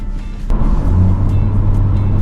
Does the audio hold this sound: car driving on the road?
yes